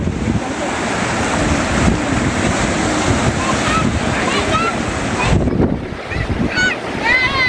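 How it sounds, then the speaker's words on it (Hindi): Fast-flowing Bhagirathi river water surges into the Devprayag confluence with the Alaknanda, making a steady, dense rushing roar up close. Gusts of wind buffet the microphone. "इस तरफ से जो जल आ रहा है ये भागीरथी रिवर है"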